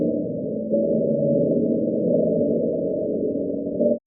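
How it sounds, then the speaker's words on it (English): Car-key jingle recording slowed drastically, becoming a steady low droning tone with a slight wavering texture, holding evenly for about four seconds before cutting off. "Here, I just pitched my car key sound way down."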